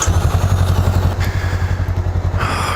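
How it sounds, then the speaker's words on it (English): A Honda motorcycle with a 500 cc liquid-cooled, fuel-injected parallel twin engine pulls away, its loud, close exhaust thrumming steadily with a lumpy pulsing beat and a few clatters over the top. "She's got the same 500 parallel twin out of the CBR 500R."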